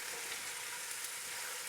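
Roughly chopped peppers fry in a goulash pot with a faint, even hiss, steady and unbroken with no talk.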